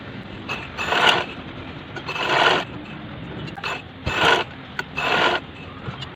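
A sewing machine stitches the shoulder seam of a toddler's frock, front and back joined, in several bursts of mechanical whirring separated by short pauses, close and moderately loud.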